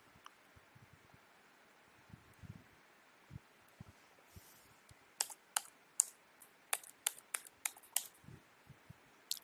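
Computer keyboard keys being typed to enter login credentials, a quiet scattered run of soft taps at first that becomes a brisker, louder burst of sharp clicks near the end, with no talking.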